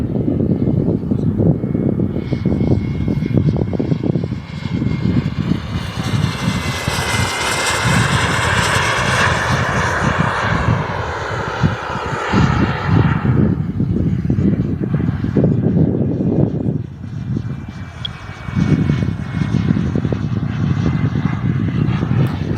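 Small Boomerang Lancer RC jet flying circuits, its engine whine rising to a loud pass and then drifting off, steady and fairly close throughout with no speech.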